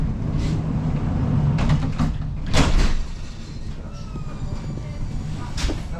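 Blackpool tram riding along the line, with a low rumbling cabin hum, a few sharp door-like clunks and squeals, and a faint rising whine from the motor.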